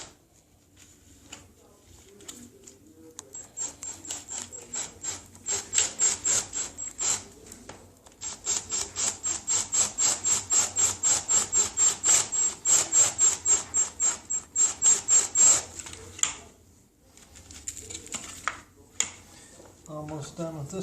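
Rivets being drilled or ground out of Anovos Stormtrooper armor plastic, a close, rapid rhythmic rasping burst repeating for several seconds at a time with pauses, while a person talks in between.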